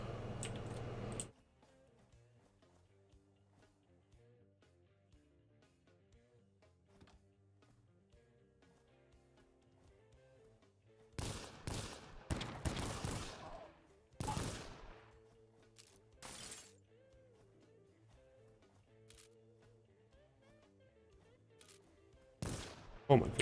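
Video game gunfire: a long quiet stretch, then a sudden cluster of loud, sharp shots and bursts, rapid and overlapping, followed by a few more isolated blasts near the end.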